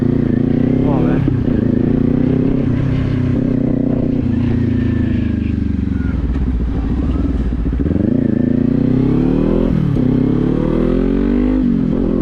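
A motorcycle is ridden and shifted up into fifth gear, with a loud, close engine note that climbs, briefly drops at each shift and climbs again, and a rider talking over it.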